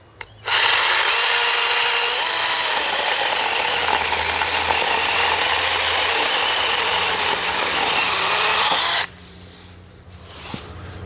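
A Zeeksaw mini chainsaw cuts through a thick tree branch, giving a loud, steady high-pitched buzz for about eight and a half seconds before it cuts out abruptly into quiet outdoor background.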